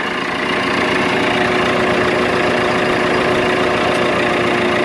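Steady, continuous idle of a 140-horsepower diesel engine in a 2019 JCB 542-70 Agri Super telehandler, a low even rumble with a faint hum, heard up close and alone throughout.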